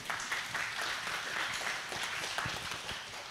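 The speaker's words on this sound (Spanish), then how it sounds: "Aplausos, por favor." Applause from the audience at a Spanish-language academic book presentation on law, a steady, fairly quiet wash of many hands clapping together.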